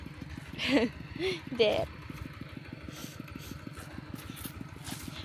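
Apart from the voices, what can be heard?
farm tractor engine running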